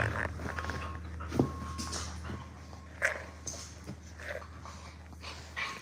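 Pet dogs at home give soft whimpers, snorts and a few small yips, faint and scattered over low background noise with no talking.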